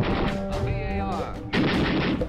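Bursts of fire from a BAR automatic rifle in a war game, loud and close, cut through a droning musical backdrop.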